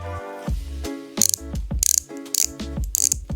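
A twisting lipstick mechanism crackles with rapid ratcheting clicks in several short bursts, close and loud, separated by brief pauses.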